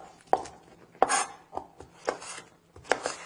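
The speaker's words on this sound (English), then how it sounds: "Get this nice and chopped up." A fruit or vegetable being chopped on a board, five or six distinct knife thuds at an uneven, unhurried pace, close and fairly quiet with no talking.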